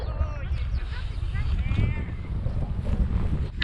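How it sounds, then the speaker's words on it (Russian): Gusty wind blowing outdoors on Tabaginsky Cape beside the Lena River during spring ice drift, a steady rough roar buffeting the microphone close up for the whole few seconds. "Ветрено становится, небо затягивает"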